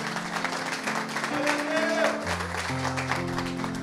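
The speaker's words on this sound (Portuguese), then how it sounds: "Glorifique bem forte com as suas palmas." A church congregation claps along during a youth service, the applause running steadily beneath music and voices, moderately loud throughout the short stretch.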